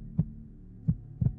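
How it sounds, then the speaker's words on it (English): Muffled heartbeat heard through a pillow in a quiet room, three soft low thumps with the last two close together like a lub-dub, alone and faint. "If you press your ears against the pillow, you can hear your heartbeat."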